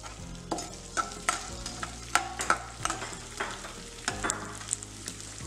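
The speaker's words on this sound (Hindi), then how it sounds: "इसको हम कढ़ाई में डाल देंगे और फ्राई कर देंगे।" Gond (edible gum) frying in a kadhai for besan ladoo, with steady low sizzling broken by repeated scrapes and clinks of a spoon stirring against the pan, close and moderately loud, no voices.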